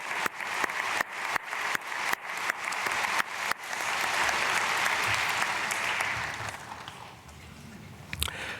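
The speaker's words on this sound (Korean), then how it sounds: "박수로 축복하겠습니다." Church congregation breaking into applause at an early-morning service, a few scattered claps first, then dense sustained clapping that swells for several seconds before fading out.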